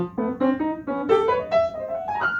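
Piano keys are pressed one after another in a climbing run of single notes, mimicking a cat jumping onto the keyboard, close and clear with no talk.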